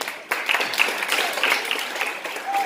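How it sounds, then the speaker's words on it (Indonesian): Audience applause at a junior high school student project showcase in Jayapura, a short burst of moderately loud clapping that starts abruptly and carries on steadily, with a few voices mixed in. "Tepuk tangan dulu."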